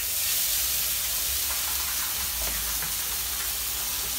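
Food for a beef lasagna sizzles and fries steadily in a pan, a dense continuous hiss with faint crackles throughout, close and loud, with no talking.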